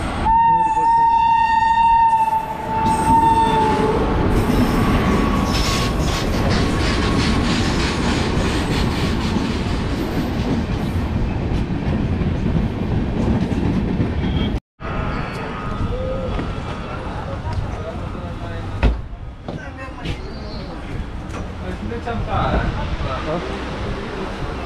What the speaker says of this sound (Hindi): आती है ट्रेन तो दिखाते हैं।